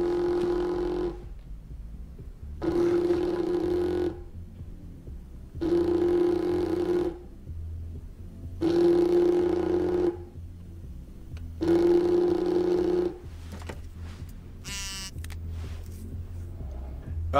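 A telephone rings with an incoming call, five loud electronic tonal bursts about three seconds apart, each lasting roughly a second and a half, followed by a short chirping tone near the end.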